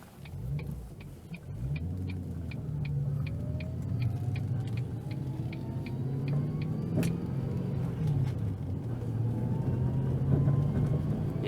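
A V8-swapped Ford Focus drives along with a steady low engine and road drone, while faint, regular ticks and something rattling underneath the car sound through the cabin.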